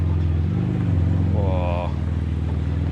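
A Porsche GT2 sports car engine rumbles steadily at close range at a Porsche club meet, with a brief rising rev in the middle.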